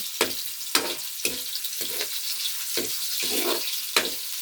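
Garlic and onion sauté in a pan in a simple province-style Filipino kitchen, close sizzling broken by repeated scraping stir strokes at a steady rhythm.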